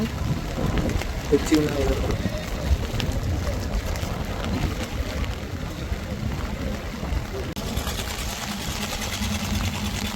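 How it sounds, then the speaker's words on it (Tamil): A steady boat engine drone runs throughout, pumping water out of the hull during heavy rain, with water splashing and rain-like noise over it, and a voice talking in the background. "இப்போ இவங்க இன்ஜின் அடித்து தண்ணியை ஃபுல்லாக வெளியேற்றுறாங்க"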